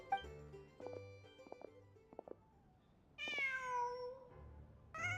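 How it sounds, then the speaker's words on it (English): A cat in the video game Genshin Impact gives a drawn-out, clear meow that rises and then falls, alone after some quiet game tones and ambience. "Just a cat."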